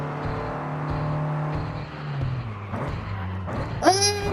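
An upgraded car engine in Forza Horizon 5 drones steadily as the revs rise and shift, ending in a sharp high-pitched whine near the close, with no voices over it.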